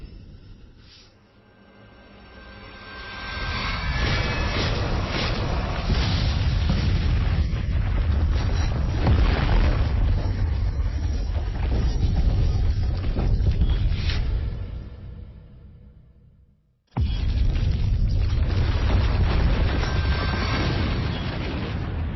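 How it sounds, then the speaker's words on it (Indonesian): A mountain erupts in a dramatized scene: a rising deep rumble swells into sustained booming roar and crackle, fades out, then abruptly resumes at full loudness. "Gunung ini benar-benar meledak."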